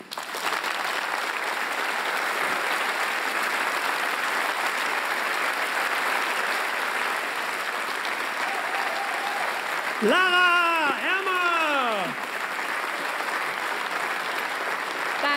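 Sustained applause from a cabaret audience after a performance, broad and even clapping throughout, with a host's voice calling out over it partway through.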